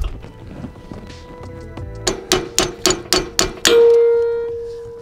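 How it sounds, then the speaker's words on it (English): A hammer strikes metal while knocking a shackle bushing out of a Dexter trailer axle hanger: seven sharp, evenly spaced clanging blows close by, the last ringing out into a long metallic tone, with nobody talking. "let me find my hammer here"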